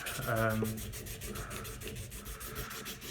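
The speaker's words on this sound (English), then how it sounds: "the sandpaper bits I've got for the Dremel are in the region of 80 grit" A Dremel rotary tool fitted with a roughly 80-grit sandpaper bit grinds against a golf club shaft, a steady close abrasive rasp with a faint rhythmic pulsing from the spinning bit, starting with a short motor whine.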